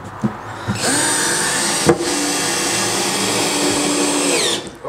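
A cheap cordless drill whines steadily at high speed for about four seconds, starting after a few clicks and spinning down at the end, with a sharp knock partway through.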